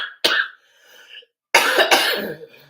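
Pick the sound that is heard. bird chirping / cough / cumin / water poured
cough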